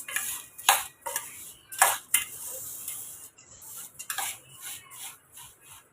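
A spoon stirs spice powder into a crispy instant snack mixture in a bowl, giving irregular scraping and clinking strokes up close with quiet gaps between them.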